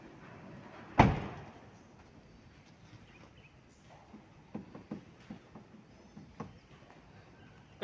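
A car's middle door is slammed shut with one loud thud during a child lock check, followed by fainter clicks and knocks from the latch and handle in a quiet setting.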